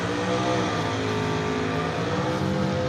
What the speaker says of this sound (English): I think they're running the fast cars again, so we got to listen.